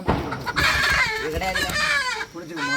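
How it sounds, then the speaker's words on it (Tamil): Free-range country chickens clucking and squawking close by as they are caught from their coop, busy overlapping calls with a crow-like cry among them. "நாட்டுக்கோழி எங்கள் வீட்டிலையே இருக்குது கோழி கூட்டிலேருந்து பிடிக்க போகிறாங்க"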